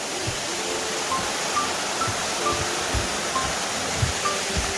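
Eunyu waterfall on a mountain trail to Cheonhwangsan in the Yeongnam Alps roars as a steady, broad wash of falling water, loud and close.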